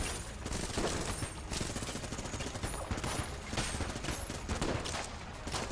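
Dense, continuous rapid gunfire in the video game Enter the Gungeon as a boss and its turrets are shot, loud and unbroken with overlapping blasts.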